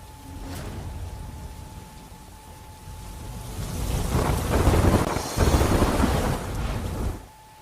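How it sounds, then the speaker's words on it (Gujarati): Steady rain falling over villages in Kamrej taluka near Surat, Gujarat, a broad continuous wash that swells louder midway with a possible low thunder rumble, no voices. "કામરેજના ધોરણ, પાટડી, ઘલા સહિતના ગામોમાં વરસાદ છે"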